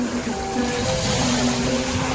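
Strong, churning seawater surges at high tide at Tulay Buhangin in Padre Burgos after a typhoon, a continuous rushing wash with faint tonal hums beneath it and no talking.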